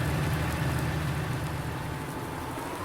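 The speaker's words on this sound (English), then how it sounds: "It seems like it's constantly raining here." Rain falls steadily in the Farming Simulator 19 video game, a continuous broadband hiss with a low engine-like hum beneath, even and unbroken, with no voices.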